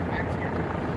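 A helicopter flying over a protest in Manhattan, New York City, giving a steady, loud rotor rumble that fills the short moment without a break.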